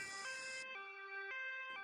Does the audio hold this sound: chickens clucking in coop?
no